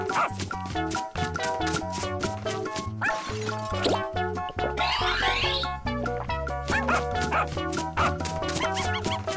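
Cartoon dog barks cut through a lively children's tune. There are several sharp barks mixed with playful sound effects, all over continuous, loud music.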